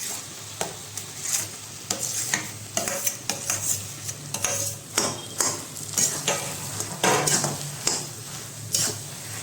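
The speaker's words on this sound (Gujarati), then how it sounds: "અહીંયા હળદર નાખી દઈશું થોડી જેટલી અને સરસ મિક્સ કરીશું એટલે બધે થઈ જાય અને પછી બધા બટેકા આપણે નાખી દઈશું" A spoon scrapes and stirs potatoes with turmeric in a pan for vada pav. About a dozen uneven strokes sound over a soft, steady sizzle, close up, with no talking.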